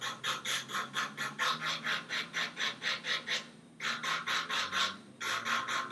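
Nail file rubbing back and forth over a plastic nail tip to blend it, a close rhythmic scratchy rasp in quick strokes, with two short pauses between runs.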